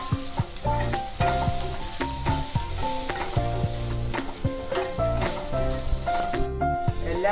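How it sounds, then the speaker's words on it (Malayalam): Spice powders, including fenugreek and asafoetida, being stirred in a pan for South Indian rasam, a steady close sizzle with scraping stirring strokes and faint background music. "ഇതെല്ലാം ചേർത്ത് നല്ലവണ്ണം ഇളക്കി യോജിപ്പിക്കുക."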